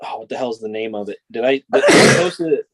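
A sneeze bursts out near the end, loud and close, right after someone speaks a short question.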